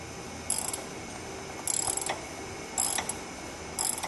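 Wrench working a 15mm nut on a spinning sway bar link stud of a Ford Crown Victoria, four short bursts of rapid ratcheting clicks spaced about a second apart over a quiet background.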